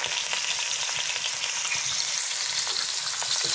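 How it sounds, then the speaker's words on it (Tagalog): Chicken gizzards sizzling with browned onions in a pan for a liver and gizzard curry, a continuous dense frying hiss with faint stirring scrapes throughout, close and even in loudness. "So ilagay na natin ito naman ang gisahin natin ang balon-balunan."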